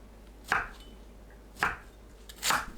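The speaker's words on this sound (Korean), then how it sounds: "어묵을 한 입 크기로 썰어줍니다." Three knife chops through fish cake on a cutting board, cutting it into bite-size pieces for tteokbokki, evenly spaced about a second apart, close and crisp against quiet room noise.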